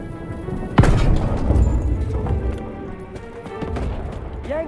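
A grenade blast in the World War II shooter Call of Duty: WWII lands as one sharp, loud boom, then rumbles under continuous battle noise and shouting voices.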